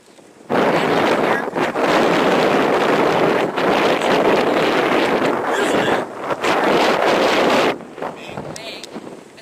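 Strong wind buffeting a microphone outdoors at an animal shelter, a loud continuous rumbling roar with brief dips, and faint voices underneath.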